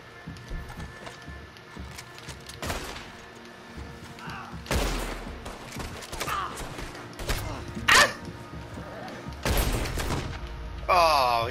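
Sniper rifle shots ring out in a Red Dead Redemption 2 Online shootout, several sharp cracks spread across the scene, some near and loud, others farther off, amid game ambience and a voice talking over parts of it.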